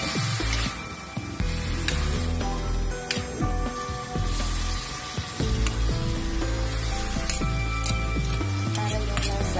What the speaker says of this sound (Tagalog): ilagay po natin ito ang ating kangkong. Ayan. Halo lang po natin siya.